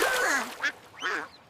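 Animated cartoon duck gives three distinct quacks, loud and close, the first drawn out and the next two short, with no talking.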